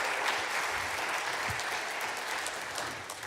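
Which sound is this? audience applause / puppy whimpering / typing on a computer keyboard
audience applause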